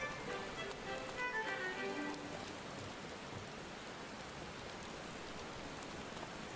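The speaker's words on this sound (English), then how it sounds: "Well, it is raining." Steady rain falls in the Final Fantasy XIV video game, a soft, even hiss at low level that continues throughout, with faint tonal game sounds early on and no speech.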